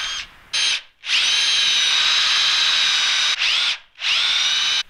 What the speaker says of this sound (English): I'm getting ready to drill the holes to put the hoops in